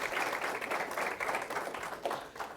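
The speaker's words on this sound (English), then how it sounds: "let's give them a round of applause" An audience at an English language arts teaching session claps steadily in a sustained round of applause, many hands at once, fairly close and even throughout.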